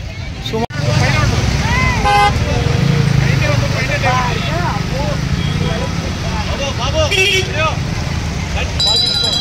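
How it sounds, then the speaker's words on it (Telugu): Dense road traffic near a temple festival in Devanakonda mandal, with repeated car and vehicle horns honking in short toots and blasts over a steady engine roar, and a busy crowd murmuring throughout. "ఎటు చూసినా ట్రాఫిక్, ఫుల్ ట్రాఫిక్ అనమాట"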